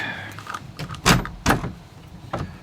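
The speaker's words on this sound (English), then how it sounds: "and the doors are stuck." Several loud knocks and thuds of a swollen, stuck wooden narrowboat door being shoved and banged, with rattling in between, close by and irregular.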